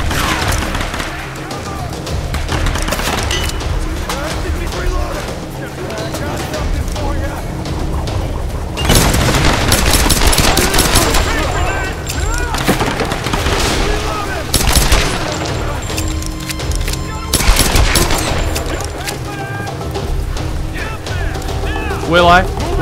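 Rapid bursts of gunfire in a Tomb Raider game, loud dense shots with booms and crashes in a continuous fusillade, with a voice talking over the action.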